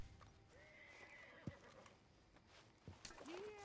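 Horse in the video game Red Dead Redemption 2 whinnying and neighing with clip-clop hooves, fairly faint beneath game noise and someone speaking.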